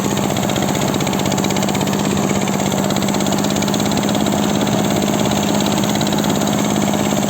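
A homemade tractor's engine runs steadily at idle, a loud, continuous mid-pitched throb with a rapid even pulse throughout and no voices.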